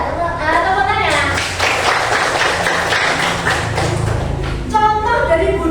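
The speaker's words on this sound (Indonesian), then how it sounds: "Tepuk tangan" A classroom group claps together in a dense burst of applause lasting a few seconds, with voices heard just before and after it.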